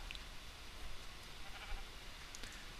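Sheep in Minecraft bleat faintly over a steady game ambience, with a couple of soft, brief calls rising out of the low background hum.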